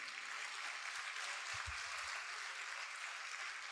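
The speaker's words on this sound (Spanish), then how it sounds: "denles un aplauso a las hermanas edecanas" Audience applause for the hostesses at a centenary celebration, a steady broadband wash of clapping from a crowd filling the whole clip.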